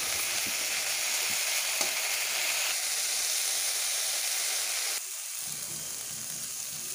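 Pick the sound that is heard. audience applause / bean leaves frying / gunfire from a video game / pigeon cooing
bean leaves frying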